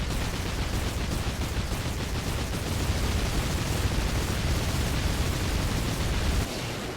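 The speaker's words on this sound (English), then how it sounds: "Exploding squid!" An exploding squid in the Shantae video game gives a loud, sustained roaring blast of dense noise that rumbles on for several seconds before dropping off abruptly.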